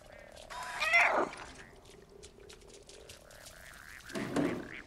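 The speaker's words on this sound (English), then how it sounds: "Crazy cat." A cat in the game Stray lets out two loud, drawn-out meows a few seconds apart over a quiet mechanical ambience, with brief faint chirps between them.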